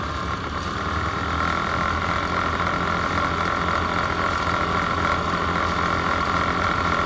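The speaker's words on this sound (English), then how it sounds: "we're starting to climb again we're at 4000 engine rpm" A car engine fitted with an out-of-the-box Accel 59130 HEI distributor climbs steadily toward about 4000 rpm, a loud, dense, constant mechanical drone filling the whole stretch with no pauses.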